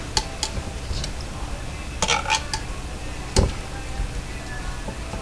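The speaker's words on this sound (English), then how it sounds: "we're going to mix this all around, see? Use a fork or knife and just kind of move it around" Fork or knife stirring roast chicken with onions, carrots and celery in gravy, giving a few scattered clinks and scrapes against the pan, fairly near and moderate in level, with no talking.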